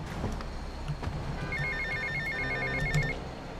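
A mobile phone rings in the video game GTA Vice City, giving a repeating electronic ringtone of short, even beeps that is clear and steady over low game background noise, with no talk.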